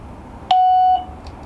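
An external chime for a wireless video doorbell gives a single clean electronic beep about half a second long while being paired, loud and close in a quiet room.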